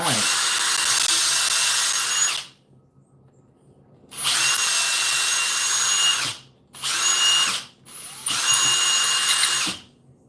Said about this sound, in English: Ream that out, throw a screw in